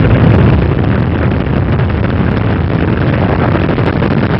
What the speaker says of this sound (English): We have booster ignition and liftoff of the Space Shuttle Endeavour